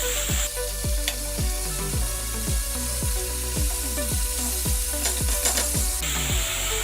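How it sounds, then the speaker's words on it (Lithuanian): Chicken breast fries in olive oil with a constant bright sizzle, while a regular run of low thumps and clicks repeats roughly twice a second beneath it. "krūtinėlė kepa labai greitai"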